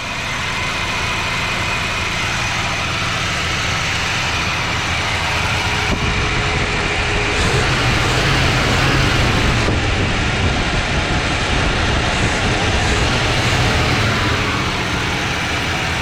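A 1979 Chevrolet Malibu V8 running after sitting for 20 years, a loud steady rumble close by that holds constant throughout with a slightly rough, unchanging idle and no voices.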